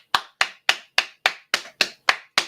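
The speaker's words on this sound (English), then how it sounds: "Let's give Clayton a round of applause." Applause for Clayton heard as eight sharp, evenly spaced claps from a single pair of hands, each crisp and close with a short decay, about three per second.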